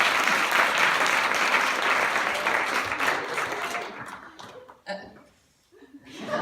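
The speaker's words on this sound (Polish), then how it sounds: "wielkie brawa dla nas" Loud, dense applause from a festival audience honoring student theatre troupes at the finale swells and then fades away, leaving a few chuckles and a brief voice in the thinning room.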